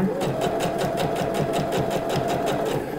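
Sewing machine stitching a small curve along a dress about 1 cm from the edge, a fast, steady run of rapid needle strokes, close and continuous with no pauses.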